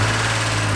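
An old Chevrolet car engine idles close by with a steady low hum and a slight fast lifter tick riding on top, even and continuous.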